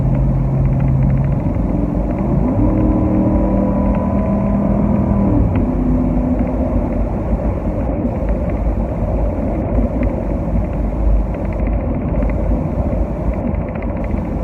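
A Ford fitted with a Borla performance exhaust accelerates toward highway speed, a loud deep engine drone rising in pitch through the first few seconds, then settling into a steady cruising rumble with road noise.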